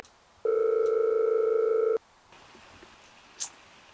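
A telephone tone from a handset before answering: one steady, loud tone holding for about a second and a half, then cutting off, followed by quiet room background with a faint brief click.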